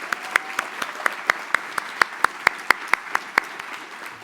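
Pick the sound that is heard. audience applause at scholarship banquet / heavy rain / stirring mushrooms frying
audience applause at scholarship banquet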